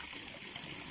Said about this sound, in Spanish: viendo esta cascada